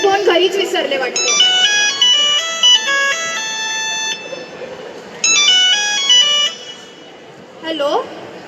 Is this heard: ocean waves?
no